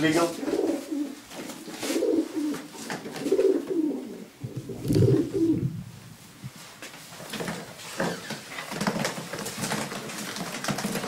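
Racing pigeons coo in a loft, a steady run of soft, throaty, rolling calls that rise and fall nearby, with light shuffling and faint background voices.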